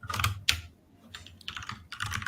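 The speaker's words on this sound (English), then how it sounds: "I hear is somebody smashing a keyboard" Fast, heavy typing on a computer keyboard, hard keystrokes landing in dense bursts with short pauses between them, close and fairly loud with no talking.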